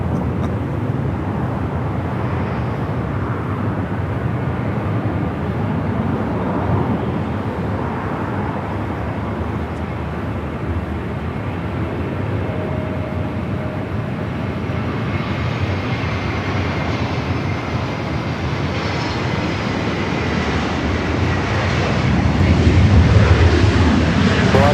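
A Cathay Cargo Boeing 747 takes off from the south side at Los Angeles International Airport, a steady, broad jet roar that holds through the clip and swells louder near the end as the freighter climbs.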